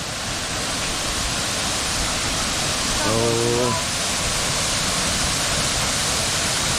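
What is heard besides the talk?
Song Khwae waterfall rushing water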